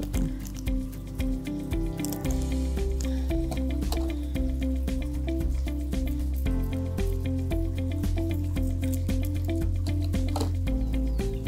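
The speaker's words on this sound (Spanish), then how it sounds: "Nuevamente agitamos que se diluya el reactivo" Glass cuvette shaken by hand to dissolve a reagent sachet for a photometer nutrient test, giving a continuous muffled liquid sloshing and rattle, close and fairly loud, with no clear talk.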